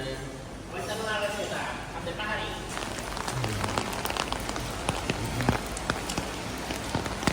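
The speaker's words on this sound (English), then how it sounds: "And you can hear the rain." Steady rain patters down at a market in Seville, a continuous hiss of drops on surfaces beneath a voice talking close by.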